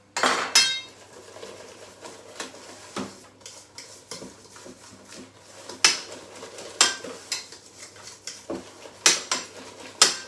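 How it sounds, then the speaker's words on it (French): Madeleine batter is stirred vigorously in a bowl, giving repeated clinking scrapes of a utensil against the bowl in uneven bursts, close and fairly loud, with no talking. "Vous mélangez énergiquement, pas trop longtemps, mais énergiquement"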